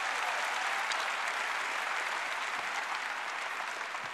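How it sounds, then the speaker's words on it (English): A church congregation at a revival service claps together in a thick, sustained roar of many hands, steady and fairly distant, with no speech over it. "clap your hands."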